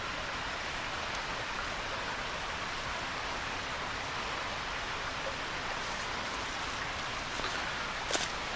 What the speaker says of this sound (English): You can probably hear the water.